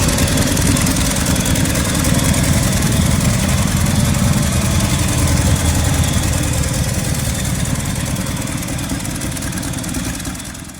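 A 1968 Chevrolet C10 pickup with a 250 inline-six and four-speed, long left sitting for over a decade, idles steadily and loudly up close, a continuous rough rumble that eases slightly near the end.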